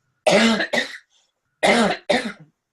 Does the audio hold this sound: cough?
yes